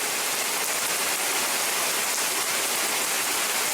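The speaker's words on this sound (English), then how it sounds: "Dude, it's raining." Steady, dense rain pours down during a storm outdoors near horses, a continuous broadband hiss of drops hitting surfaces with no break and no voices.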